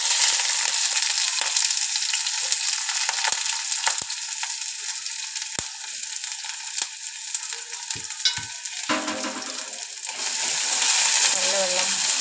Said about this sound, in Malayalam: മൺചട്ടി അടുപ്പത്ത് വെച്ച് അതിൽ കറിവേപ്പിലയും ഇഞ്ചിയും ചുവന്നുള്ളിയും ഇട്ട് കൊടുക്കും